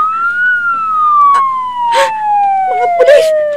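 A police car siren wails loud and near with a long steady falling tone, while voices shout briefly over it.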